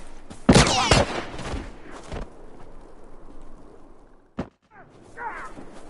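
Rifle fire in The Last of Us multiplayer shooter game: a sharp rapid burst of shots near the start, then a single crack and a fainter shot later against a quiet background.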